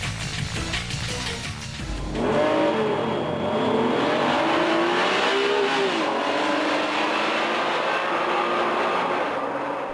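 A track-focused Honda NSX-R sports car with titanium connecting rods revs hard and accelerates, its engine note rising and falling through gear changes, loud and close, with no voices.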